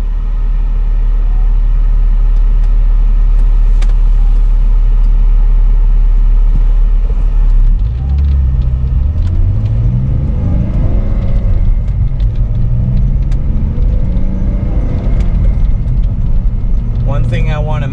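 A car with the original 346 open differential idles steadily at close range, a low continuous engine rumble, with a second rumbling motor sound rising in the second half under brief talk.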